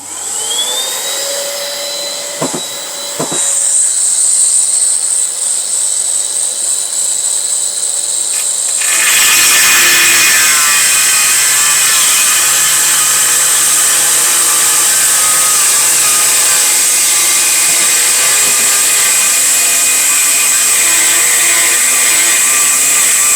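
Rotary engraver fitted with a Distar Butterfly 45 mm cutting disc, first whining and spinning up alone, then biting into material with a loud, steady, harsh grinding screech that persists.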